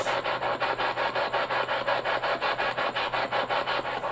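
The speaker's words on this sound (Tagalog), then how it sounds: "Naririnig ba niyo yung spirit box?" A spirit box sweeps radio stations at a haunted cemetery in Danao, Cebu, giving a steady, rapid pulse of harsh static bursts, close and continuous, with no voices.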